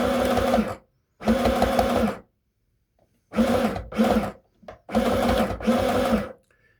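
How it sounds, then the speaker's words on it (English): A sewing machine stitches over a pleat in a red cotton skirt in several loud, close bursts of rapid mechanical whirring, separated by short silent pauses. "we're actually sewing over a pleat"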